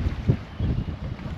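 Wind gusting outdoors at Grays during a sea fishing session, a steady low rumble with buffeting on the microphone and surges near the start and middle, with no talk.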